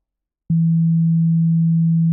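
A single steady synthesizer tone, pitched too high, starts abruptly after a brief silence and holds at constant pitch and loudness, thin and pure like a sine wave.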